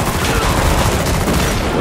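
A dense burst of rapid gunfire in the video game Killing Floor 2, loud and continuous for under two seconds, with booming impacts layered over the shots.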